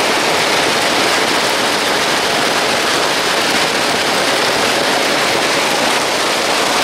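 Heavy rain pouring down while runoff spills over the top of a sidewalk into a ditch; a steady, loud, broadband wash of water that holds unbroken for the whole stretch, with no voices.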